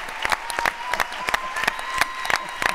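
An audience at the Social Good Summit 2019 panel on leadership in crisis applauds, with sharp individual claps in an uneven, fairly sparse rhythm over a low crowd murmur.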